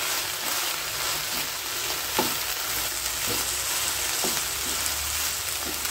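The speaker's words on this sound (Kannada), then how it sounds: "ಅದಕ್ಕಾಗಿ ಇದನ್ನ ಚೆನ್ನಾಗಿ ಫ್ರೈ ಮಾಡಬೇಕು ಫ್ರೆಂಡ್ಸ್" Masala powder mixed with fresh grated coconut fries in a pan with a steady, hissing sizzle, punctuated by several soft stirring knocks at irregular intervals, with no one talking.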